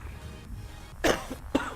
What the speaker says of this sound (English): coughing into the mic like that